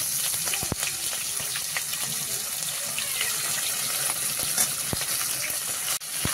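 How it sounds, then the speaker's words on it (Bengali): A large catla fish head fries in oil in a kadai, giving a continuous, even hiss of sizzling with a few faint clicks, close and steady throughout. "আর মাছটা ভাজা চলছে।"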